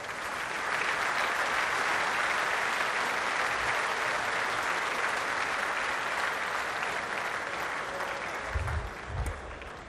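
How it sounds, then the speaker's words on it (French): An audience at a ceremony at the Merlebach mine site applauds the coal miners with sustained, even clapping from a large crowd, followed by a couple of low thumps near the end. "Messieurs les mineurs, vous êtes exceptionnels et on vous applaudit."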